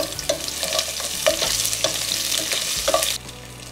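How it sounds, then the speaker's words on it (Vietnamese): Lemongrass sautéing in hot oil for a vegetarian curry, a continuous crackling fry with rhythmic stirring scrapes and clinks, close and loud, dropping quieter near the end. "Sau khi mà dầu của mình nó sôi, nó nóng lên rồi á, thì mình sẽ bắt đầu cho sả và phi thơm ha."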